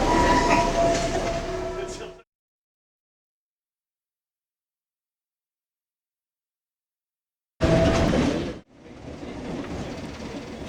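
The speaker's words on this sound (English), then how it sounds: "we cross a train heading for Johnsonville." A passing commuter train on the Johnsonville line near the Wadestown Loop between tunnels, heard as a loud rumble with clickety-clack that cuts off abruptly, falls silent, then returns briefly before fading to a quieter roll.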